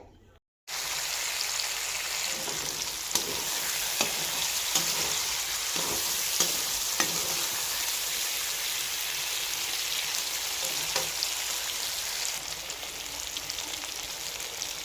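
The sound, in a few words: boiled potatoes stirred into frying spices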